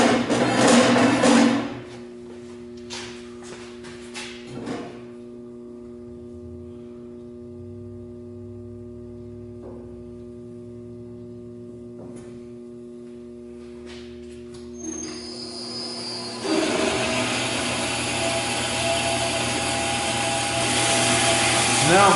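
A power saw cuts 1.5 by 1.5 metal stock for a motorhome Watts link suspension; bursts of harsh cutting open and close the stretch, with a lower motor hum and clicks in between.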